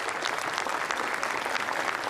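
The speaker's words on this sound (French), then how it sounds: "Il commence par s'applaudir avant d'être imité." Dense, steady applause from a crowd of legionnaires at a Donald Trump speech, many hands clapping continuously at close range without a break.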